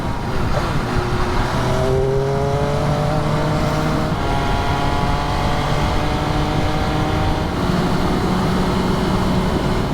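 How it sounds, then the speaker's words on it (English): A 2022 MV Agusta F3 RR, a mid-range triple-engine sports motorcycle, rides along open roads with a steady, loud engine drone whose pitch rises and falls as it changes gear, with wind noise throughout and no voices. "Triple engine, mid-range sports bike."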